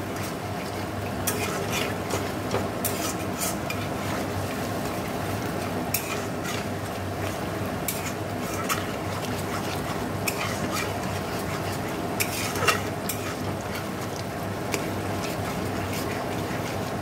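Spice masala for a soybean curry is stirred and fried in a pan, producing a long run of soft scraping and scattered metallic taps over a low sizzle and a steady hum.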